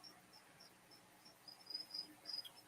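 Crickets chirp in short, regular high-pitched pulses, faint at first and growing a little louder and more insistent toward the end, with no voices.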